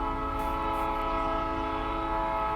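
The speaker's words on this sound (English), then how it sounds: "Trains through in town." A train passing through a town sounds a long, steady horn chord that holds throughout, loud and sustained over a faint rumble of the rail cars.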